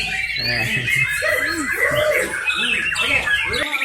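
Songbirds chirp and squawk in busy overlapping bursts at a bird singing contest in Meulaboh, with voices talking throughout.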